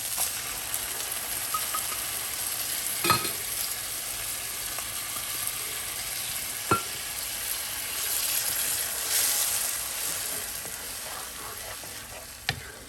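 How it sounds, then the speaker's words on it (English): Tomatoes cooking in hot oil for paneer tikka masala, a steady close sizzle and fry throughout with a few sharp clinks or stirring knocks, no talking. "Now we are going to cook this until the oil releases from the tomatoes."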